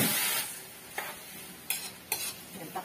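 Chicken simmering in a pan with tomato sauce for afritada, a steady close sizzle broken by several sharp stirring scrapes toward the end.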